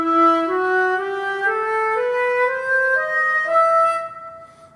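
A harmonic minor scale played as a rising run of sustained, rich harmonic notes, one after another at an even pace, clear and close with no talking, the last note fading away.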